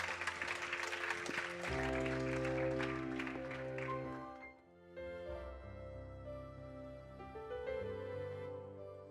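An audience applauds at a Christmas church theatre event, with a few seconds of dense, close clapping. The clapping then fades as sustained musical tones take over.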